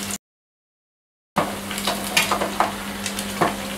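Bread rolls deep-frying in hot oil in a pan: a short dead gap, then a continuous crackling sizzle with scattered pops, close and fairly loud, with no speech.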